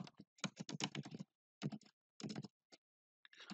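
Code is typed on a computer keyboard in quick, close bursts of key clicks, separated by brief pauses.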